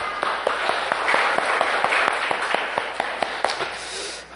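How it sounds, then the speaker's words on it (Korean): A congregation in a Korean church service claps together, a steady run of sharp hand claps that grows fuller, then thins out into scattered taps before a sudden louder sound at the end. "영광의 박수를 주님께 돌립시다."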